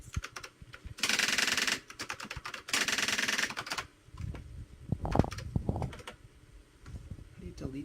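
Bursts of rapid typewriter keystrokes, close and clattering, in two dense runs. Scattered key strikes follow while people talk nearby.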